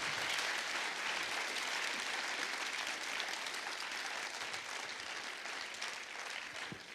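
A festival audience at an evening singing contest final gives a long, even round of applause, a dense continuous wash of many clapping hands heard from within the hall.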